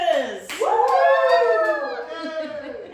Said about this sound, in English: I want to hear you all cheer when I present our married couple